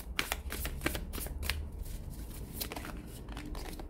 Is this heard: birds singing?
no